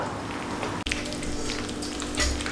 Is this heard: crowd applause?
no